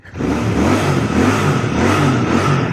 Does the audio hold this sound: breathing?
no